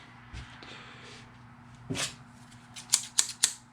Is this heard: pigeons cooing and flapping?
no